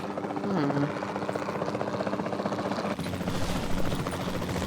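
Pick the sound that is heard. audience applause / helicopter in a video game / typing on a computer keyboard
helicopter in a video game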